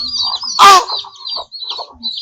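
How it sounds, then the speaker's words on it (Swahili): Chickens cluck and chatter close by in a farmyard, with a flurry of short calls and one louder squawk breaking through the scattered clucking. "Mbona hizi kuku zinazidi kupungua?"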